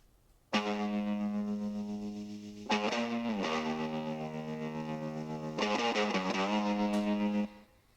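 Sustained electric guitar chords through a Guitar Rig amp with a pulsing tremolo effect, rich and loud, with chord changes every few seconds before ringing out.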